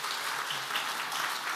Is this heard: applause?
yes